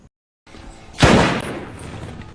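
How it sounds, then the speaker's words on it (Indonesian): A single loud gunshot rings out in a film scene as one man shoots another from behind, a sharp blast after a low rumbling background, followed by a decaying reverberant tail. "Haas langsung menembak Tripper dari belakang."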